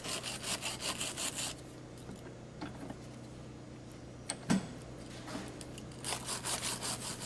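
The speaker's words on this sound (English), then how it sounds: "I'm going to use this wire brush here to clean these gears." A wire brush scrubs pump gears in repeated rapid strokes, in bursts at the start and end with quieter gaps and a faint steady hum underneath.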